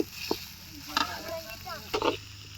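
Chicken leg pieces with ginger garlic paste sizzle quietly in a pan as the gravy is stirred, with a few short scraping knocks of the spoon standing out over the steady fry.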